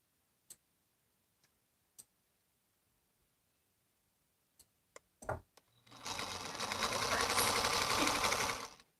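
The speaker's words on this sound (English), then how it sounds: "I should be sewing these other little pieces first" Sewing machine stitching small quilt pieces, starting after a few sharp clicks and ticks, then running steadily and fairly loud for about three seconds.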